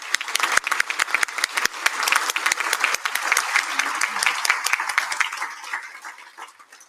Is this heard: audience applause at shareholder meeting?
yes